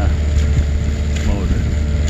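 A sailboat motors with its headsail out into a headwind on open water, a steady low engine drone mixed with heavy wind buffeting close to the microphone throughout.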